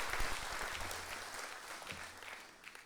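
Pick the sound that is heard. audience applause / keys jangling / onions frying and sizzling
audience applause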